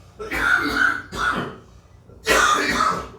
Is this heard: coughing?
yes